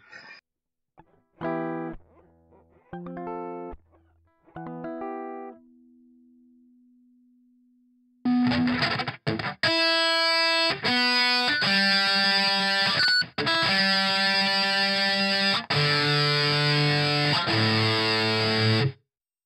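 An electric guitar is plucked and tuned, with isolated notes, a held tone, then louder distorted strums ringing out, no voices.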